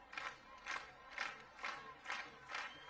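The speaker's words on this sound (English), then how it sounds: "Listen to this crowd." At an Oklahoma vs Iowa softball game, a crowd cheers in six rhythmic swells about half a second apart, a chanting roar that rises and falls evenly from a distance.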